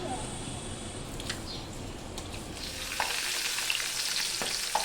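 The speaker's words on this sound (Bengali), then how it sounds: "তো এদিকে দেখো মাছ ভাজা করে নিচ্ছি" Fish frying in a pan at home, a steady broadband sizzle with a few sharp crackles and pops, close and moderately loud, with faint background voices.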